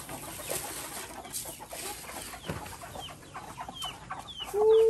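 Chickens on a rice field farm cluck at feeding time in scattered short calls over a quiet outdoor background, with a louder burst near the end.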